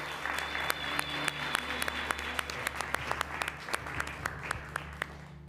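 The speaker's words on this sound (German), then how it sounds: "Applaus." Studio audience applause on a game show: steady, moderately distant clapping with distinct individual claps standing out over the crowd throughout.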